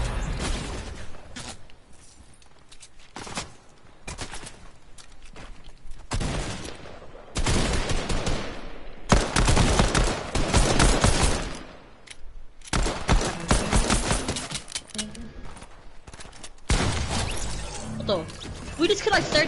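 Video game gunfire from a gold pistol and other weapons crackles in repeated loud bursts and rapid volleys, mixed with crashes, while players talk over it.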